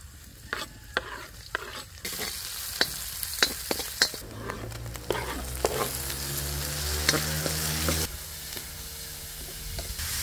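Garlic and onions fry in a pan with a steady, close sizzle, and sharp clicks of stirring sound throughout. No voices are heard.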